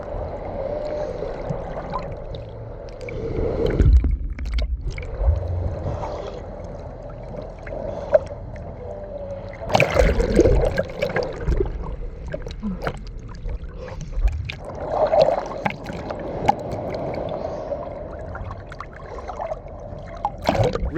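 Seawater sloshing and trickling around a phone sealed in an underwater dome housing at Boa Vista, Cape Verde, with muffled bubbling surges and bumps across a steady watery rush.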